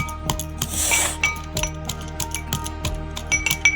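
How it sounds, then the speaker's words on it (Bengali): Garlic being crushed with a pestle in a mortar: a close, irregular run of hard clinks and knocks, with a scraping grind mixed in between strikes. "রসুনটা ভালো করে হামাল দিস্তায় থেতো করে নিব"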